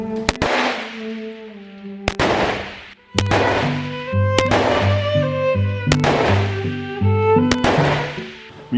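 Sharp gunshots from a Nord Arms semi-automatic precision rifle, AR-10 based, in 7.62 NATO/.308, at the Männiku 300-metre shooting range, fired one at a time at an uneven pace. There are about eight loud, close reports, each followed by a ringing decay.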